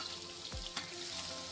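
Finely chopped small shallots sautéing in a pan of sesame oil and ghee, a faint steady sizzle and crackle throughout with a brief stirring scrape partway through.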